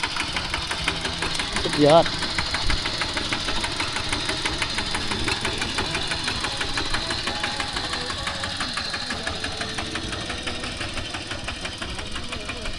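A farm tractor's engine runs steadily in the background throughout, a continuous mechanical drone with faint knocking, while people talk over it.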